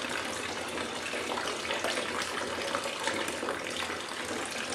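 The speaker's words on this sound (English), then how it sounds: "we're just going to allow the water to run over them to wash out any of the" Steady running water pours over two photographic prints in a darkroom final wash tray, a continuous broadband rush with no speech.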